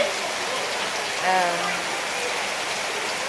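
Rain pours over farmland, a dense, steady hiss of falling water throughout, with a brief faint voice-like tone partway through.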